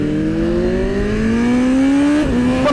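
BMW M 1000 RR superbike engine revving hard with sharp throttle response, a loud rising whine that climbs steadily, dips briefly, then climbs again.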